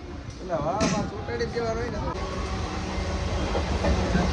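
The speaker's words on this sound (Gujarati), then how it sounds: "જો આ છે અમારી ટ્રેન." A train rumbles steadily nearby, a continuous rolling noise with a voice talking over it.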